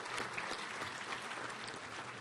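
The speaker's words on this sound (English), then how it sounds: "Let's give them a round of applause." Banquet audience at an awards dinner applauding, a dense continuous patter of many hands clapping at a moderate distance, steady for the whole stretch.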